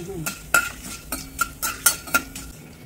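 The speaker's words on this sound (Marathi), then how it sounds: "काळी मिरी आणि लवंग वेगळं वेगळं तळायचं ना" Black pepper and cloves sizzling in a pan for mango pickle, a faint fry hiss under sharp metallic clinks of a spoon stirring against the pan, roughly a dozen scrapes and taps at an uneven rhythm.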